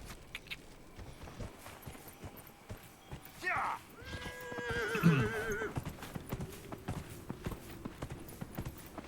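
Horse hooves clip-clop in Dragon Age Inquisition, a game mount trotting in a steady rhythm with a brief whinny partway through, all at moderate volume under a faint game soundtrack.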